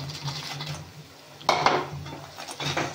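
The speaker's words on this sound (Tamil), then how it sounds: "இப்போ நம்ம பொரிச்சு வச்ச லோட்டஸ் ஸ்டெம்மை இதோட சேர்த்துடலாம்" Fried lotus stem stirred into a pan over low flame: close spoon scrapes and clinks against the pan, with a louder clatter midway and a soft hum beneath.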